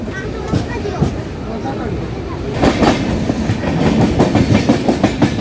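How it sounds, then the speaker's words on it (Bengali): A passenger train rolls into Cuttack station at about 60 km/h just after crossing the Mahanadi bridge, its steady rumble swelling midway into loud, rhythmic clickety-clack of wheels over rail joints, with faint voices underneath. "আমাদের ট্রেন এখন প্রবেশ করছে কটক স্টেশনে।"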